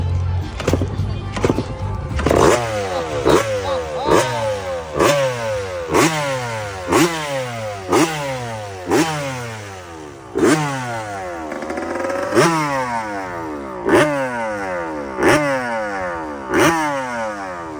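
A Frankenstein motorcycle with a YZ125 two-stroke engine in an older chassis, fitted with a blacked-out FMF pipe and radiator tucked beneath it, kicks over and fires, then revs repeatedly in sharp, loud, rhythmic bursts close by.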